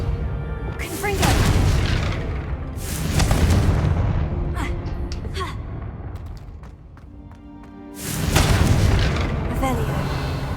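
Confringo blasting curse explosions in the Hogwarts Legacy video game, with several heavy, booming blasts and rumbling debris mixed with game effects, a loud burst returning near the end.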